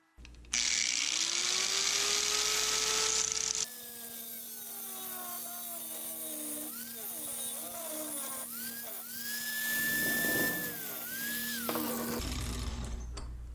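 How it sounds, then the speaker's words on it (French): An angle grinder fitted with a cutting disc slices through a metal bar, a sustained high-pitched whine that wavers and shifts in pitch as the disc bites, heard alone at moderate loudness. "Pour faire la découpe du morceau de métal, j'ai pris un disque coupé qui était comme neuf"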